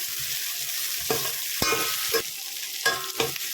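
Large-cut onion frying with okra in a pan until lightly reddened, a steady sizzle broken by several sharp scraping stirs of a spatula.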